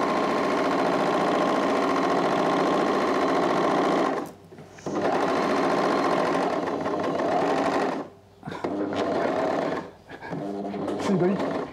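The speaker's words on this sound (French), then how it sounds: "C'est le bruit d'une surjeteuse" A serger overlock sewing machine runs in loud, steady bursts with a mid-pitched mechanical whir, stopping briefly twice before starting again, close and continuous.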